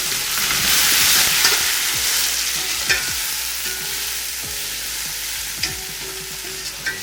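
Whole spices such as black cardamom, cloves, cinnamon, star anise, curry leaves and green chillies frying in oil in a pot for chicken tikka pulao, with a loud continuous sizzle and repeated scraping stir strokes, no voice.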